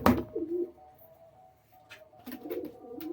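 Madras pigeons coo close by in soft, low, rolling bursts, one near the start and another toward the end, with a quiet pause between them.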